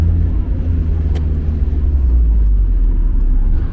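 Mazda MX-5 Miata, about 35 years old with a worn exhaust, idling with a steady low engine and exhaust rumble close by throughout, loud and continuous with no talk over it.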